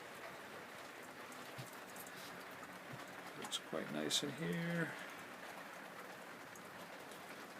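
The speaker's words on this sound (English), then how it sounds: "It's pissing rain." Steady rain patters outside the cabin of a small 25-foot diesel trawler, a constant soft hiss under someone speaking briefly, with a few louder knocks and creaks partway through.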